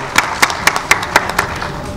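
An audience at a speech gathering claps in welcome, seven or eight sharp, evenly spaced claps like a slow collective beat, moderately loud over a low murmur of room noise.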